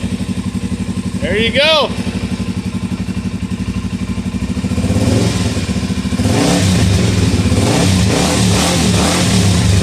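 Suzuki DRZ400E motorcycle single idling steadily up close, then revved in rising blips over a rougher, louder engine note, with people talking briefly over it.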